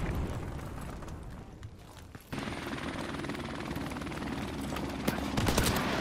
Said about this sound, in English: Enemy helicopter.